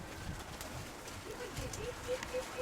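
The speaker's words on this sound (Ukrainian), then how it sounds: "Зараз дасть порцію голубенятам, знову прилетить." Pigeon cooing softly in a loft during autumn, a few low repeated coos toward the end over faint background noise.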